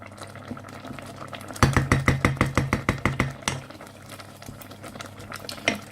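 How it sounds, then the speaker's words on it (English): A spoon scrapes and knocks around a pot of cornflour-thickened curry sauce in a quick, regular run of about a dozen strokes, then slower scattered stirs; no talking. "you kind of got to keep stirring at this point"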